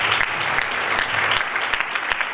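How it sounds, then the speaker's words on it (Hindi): Church congregation applauding to welcome a visiting ministry team, steady dense clapping from a nearby crowd filling the hall throughout, with a faint voice underneath. "उनको भी, इस टीम को भी ताली बजाकर स्वागत करेंगे।"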